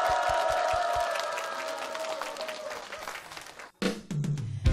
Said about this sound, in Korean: 박수로 시작합니다.